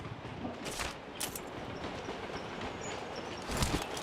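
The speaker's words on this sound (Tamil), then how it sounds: "The train is now approaching." Train rolling along rails in a steady broadband rumble with faint clacking, moderately loud and continuous, swelling slightly toward the end as it comes closer.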